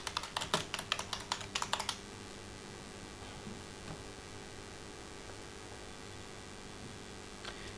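Rapid keystrokes tap out a search for a moving average indicator on a trading chart, a quick close burst of typing lasting about two seconds before settling into faint steady hiss.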